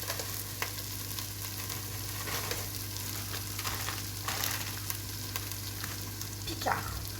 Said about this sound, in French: Je vais mettre aussi des oignons rouges.